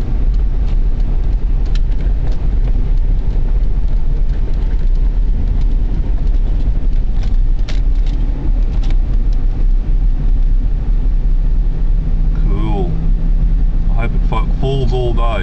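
A car drives through snow-covered downtown Saskatoon streets on a heavy snow day, its steady engine and road rumble running throughout, with someone talking over it.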